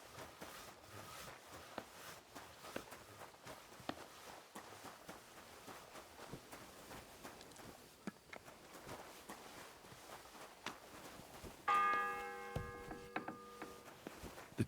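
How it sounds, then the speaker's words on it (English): A church bell in Kingdom Come: Deliverance II tolls near the end, its ringing, harmonic strikes rising clearly over a quiet bed of footsteps and faint ambient noise. "The 10th bell."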